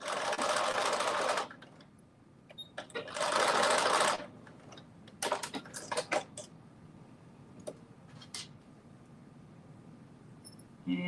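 A sewing machine stitches two fabric pieces together along their raw edges, running in two loud sustained bursts with quieter intermittent stitching and clicks between them, close up.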